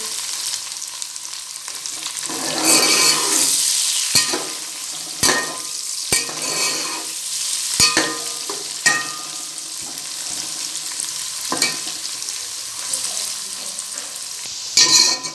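Onions frying in oil in a pan for matar pulao, a steady sizzle broken by repeated sharp scrapes and knocks of a spoon stirring against the metal, close and continuous with no talking.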